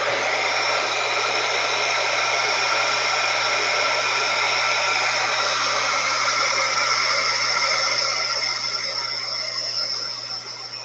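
A hair dryer blows steadily over wet watercolor paint, a loud, continuous whooshing whine with an even motor hum that holds for several seconds before easing slightly at the end.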